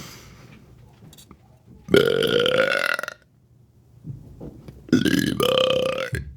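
A person lets out two long, loud, resonant burps, each lasting over a second, separated by a short quiet gap with some faint lower noise.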